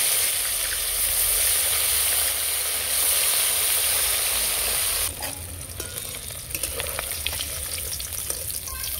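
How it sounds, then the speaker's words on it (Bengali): Bata fish sizzle in hot oil until browned, a dense, loud hiss that steadies for five seconds and then eases into a softer crackle with small pops, close up and free of speech. "সব মাছগুলো লাল করে ভেজে নেব।"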